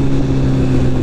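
Kawasaki ZX14R motorcycle engine revving hard and steadily, a loud close continuous low droning roar with no talk over it.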